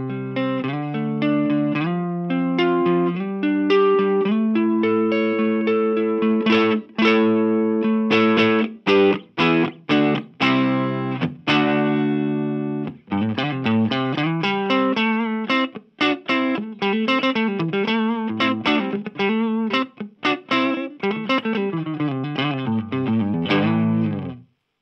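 Overdriven electric guitar through an Orange Micro Terror head set around noon, with no reverb and a 12-inch speaker, plays a continuous run of sustained chords followed by fast picked riffs and single notes, loud and upfront, with no talking.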